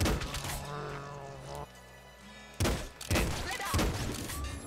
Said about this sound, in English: Can you not throw a nade on my face?